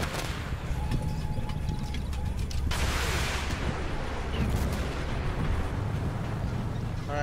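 Tank cannon fire in the Armored Warfare video game, with a T72B3 tank in play: one sharp, loud blast cuts through a steady rumbling battle backdrop, followed by a lingering noisy decay.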